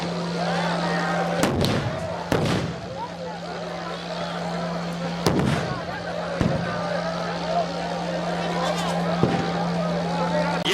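A tractor engine droning with a steady low hum as it is driven off to pull a barricade during a farmers' protest where tear gas is in the air, broken by several sharp thumps, with voices in the background.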